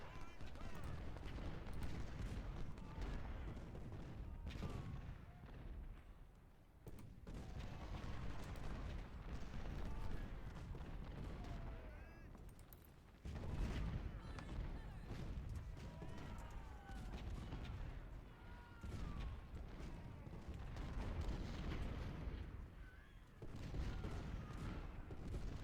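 Artillery batteries fire across a Civil War battlefield in the Ultimate General Civil War game at Chickamauga, dense continuous rumbling booms and crackling volleys layered over a busy battle soundscape.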